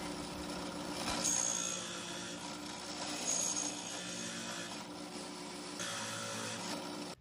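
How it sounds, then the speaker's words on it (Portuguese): A drill boring a roughly 4 mm hole into wood for a small toy tractor build, a steady grinding whir that runs continuously at close range with brief surges, with no talking. "vamos fazer um furo aí de uns 4 milímetros para poder encaixar o engate"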